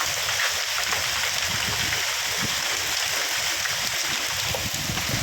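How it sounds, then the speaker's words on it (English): Hail and heavy wet precipitation pour down around a wooden roof shelter, a dense, constant hiss and patter filling the space with no pauses, close and loud. "now it's like basically hailing"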